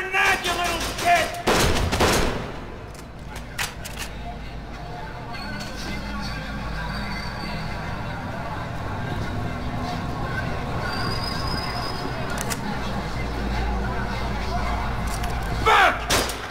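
Heavy gunfire in Kane & Lynch 2 opens with a loud burst of shots, followed by scattered distant bangs and rumbling under ongoing combat noise, with voices shouting at moments.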